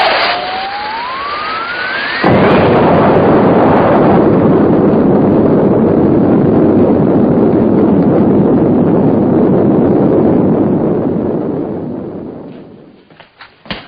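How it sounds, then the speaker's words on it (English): A rising whistle-like tone leads into a sudden loud, sustained roaring blast from an explosion in woods in a 1957 film, rumbling on for about ten seconds before fading out. "Looks like there's been some kind of an explosion over in Pelham Woods."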